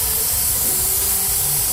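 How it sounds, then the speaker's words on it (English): An airbrush sprays thinned house paint with a steady, even hiss. The hiss runs continuously at close range, with no talking. "I haven't masked this off, so I'm just going to spray the middle bit."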